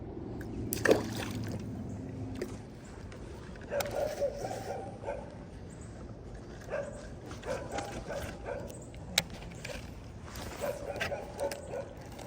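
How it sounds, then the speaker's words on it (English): A dog barks at a distance beside a private bass-fishing pond, sounding as a few sharp scattered yaps over water lapping and outdoor background noise. "I wish that dog shut up"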